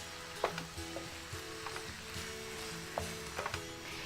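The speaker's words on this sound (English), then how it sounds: "So give that a good stir." Ground pork and vegetables stirred in a frying pan for egg rolls, a soft ongoing sizzle broken by several light spatula scrapes and taps, no voices.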